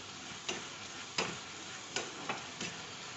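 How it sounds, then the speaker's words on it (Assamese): Grated coconut with sugar is fried on a gas stove while a spoon stirs it, giving a faint low sizzle broken by five soft scraping strokes spaced roughly half a second apart, with no voices. "এনেদৰে গেছৰ ওপৰত তুলি আছোঁ, ভাজি আছোঁ, লৰাই আছোঁ"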